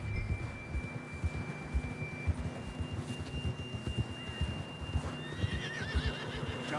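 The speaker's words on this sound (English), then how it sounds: "John was riding that horse when we left Blackwater." A horse neighs and whinnies over steady hoofbeats clip-clopping at a walk in the video game Red Dead Redemption, with a faint high hum in the background.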